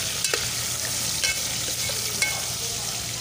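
Onions fry in a pan with a steady, close sizzle, broken by a few sharp clinks and scrapes as they are stirred.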